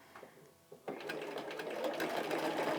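Sewing machine stitches rapidly while quilting a Diamond Dresden Plate block with a ruler foot, starting after a few faint clicks and then running as a continuous close mechanical whir until the end.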